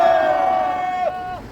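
A crowd at an outdoor press conference about a tax-evasion complaint lets out a loud, sustained shout of cheering, a dense roar of many voices that holds steady for over a second before tailing off.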